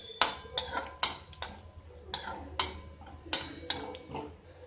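Cashews and almonds stirred in hot ghee in a pan, a spoon scraping and clinking against the metal in a steady series of sharp strokes, close and clear without talk.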